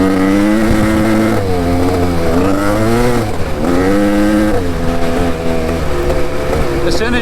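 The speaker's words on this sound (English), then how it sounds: "you start running on that lower RPM, it kind of starts to chop up a little bit" An engine runs unevenly at low RPM, its loud, close hum wavering and surging in pitch as it chops and stumbles rather than holding a smooth idle.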